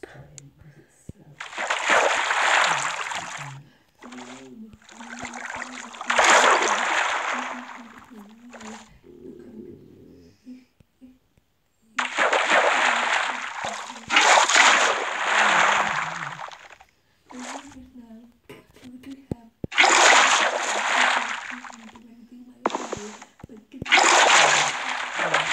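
Water splashes from swimming in the video game Minecraft come in several long surging bursts separated by quieter gaps, with brief speech in between.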